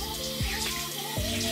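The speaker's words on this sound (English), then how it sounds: "I'm gonna rinse it under water" Running tap water during a face rinse at a sink, a steady continuous splashing stream with a couple of brief shifts in the flow.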